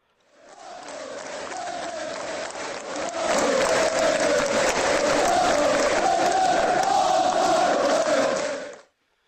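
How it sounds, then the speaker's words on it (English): A football crowd roars as a podcast interlude, a swelling mass of cheering voices and shouts that fades in, grows louder partway through, holds steady, then cuts off abruptly. "We used to do these little interludes, didn't we, with the crowd noise?"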